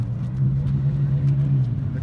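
An American car's engine hums steadily nearby with a low, even drone, the vehicle rolling past at moderate speed.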